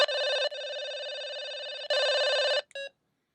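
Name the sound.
cordless phone ringtone at different volumes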